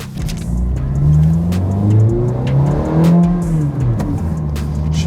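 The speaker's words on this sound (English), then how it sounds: "I can hear the engine rumble" A Ferrari F430 engine revs as the car accelerates, loud and close, its pitch climbing and falling in repeated sweeps under a deep rumble, with no talking.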